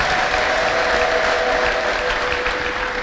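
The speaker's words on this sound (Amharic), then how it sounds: "ማድረግ ከምትችሉት በላይ በደንብ አጨብጭቡ" A church congregation claps steadily and loudly throughout, a dense unbroken wash of many hands with a faint sustained tone running beneath it.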